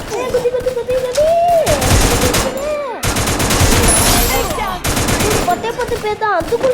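In a Free Fire match, gunshots crack in repeated sharp bursts with sniper fire among them, loud and close, while excited voices talk over the shooting.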